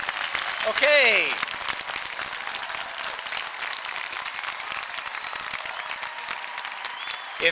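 A big commencement crowd at Wesleyan University keeps up steady, dense clapping throughout, with a short spoken phrase over it near the start and continuous ovation afterward.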